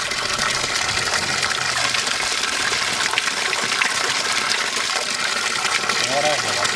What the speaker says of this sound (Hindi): ये देखिएगा चश्मे का पानी बिल्कुल यख ठंडा।